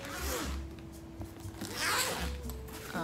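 A zipper pulled open along the main compartment of a cabin bag, a close, rasping zip with a few short strokes and fabric rustle, loud and without speech.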